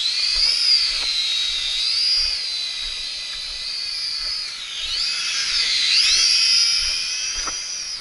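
A small Xinxun X53 RC plane's electric motor runs at very low throttle with a steady high whine that rises and falls slightly as the aircraft cruises; it is fairly loud and continuous, and no one speaks.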